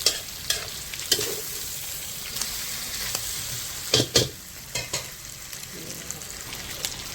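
Softened beef tongue sizzles steadily in a hot pan, with a continuous frying hiss broken by occasional sharper pops and clatters of stirring.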